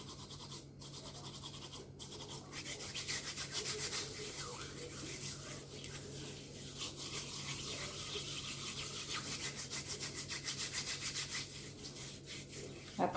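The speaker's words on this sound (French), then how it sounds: "Continuez vraiment à gommer, prenez votre temps, ça demande du temps." Skin on the feet is scrubbed with an exfoliating scrub in a foot-care routine, a soft, continuous rasping rub that keeps up an even back-and-forth texture, quiet and close.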